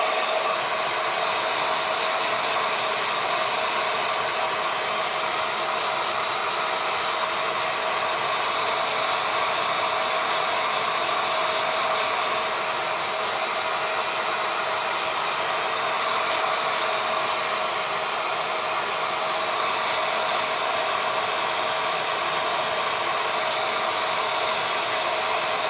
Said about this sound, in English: The blow dryer is gonna make it go faster.